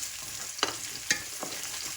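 Sardines and onion sauté in a pan, a continuous soft sizzle broken by a few sharp scrapes and taps of a spoon stirring against the pan.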